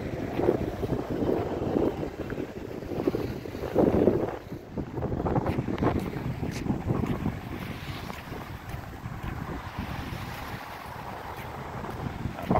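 Strong wind outdoors gusts steadily against the microphone with a rushing, buffeting roar, swelling and easing in waves, loud and close, with no talking.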